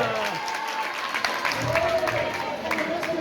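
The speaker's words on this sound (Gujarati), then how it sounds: "જોરદાર તાળીઓ." An audience at a Jain religious gathering breaks into sustained applause, the dense clapping running throughout with a voice speaking over it.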